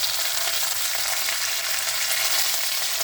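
Mustard-type tempering seeds and curry leaves sizzling in hot oil for a banana curry, a continuous bright crackling hiss that stays close and loud throughout.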